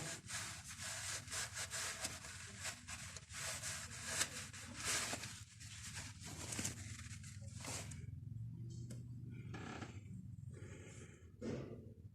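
Steady rubbing and wiping scrapes as someone cleans the outer surface of an oil pressure sensor on a BMW E30 M40B18 engine, close and continuous, with pauses near the end.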